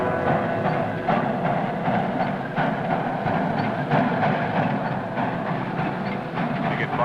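A steam locomotive on the Kansas Pacific line rumbles steadily along the track, with a dense, constant rolling roar and faint rhythmic clatter of wheels, loud and close throughout.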